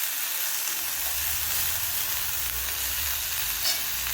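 Spices such as turmeric, asafoetida, salt and garam masala sizzle and fry in a pan on a gas stove, a loud steady crackling hiss running the whole time.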